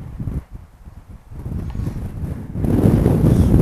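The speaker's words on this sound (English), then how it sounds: "Oh, nice big gust there." A strong gust of wind buffets an outdoor microphone while an FPV pod is flown, rising into a loud, sustained roar of wind noise toward the end after a calmer, gustier start.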